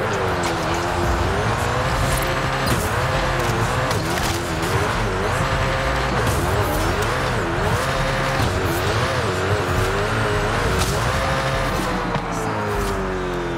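A video game car with soft suspension revs hard while driving and jumping, its engine whining up and down in pitch with tire squeals and skids, loud and continuous.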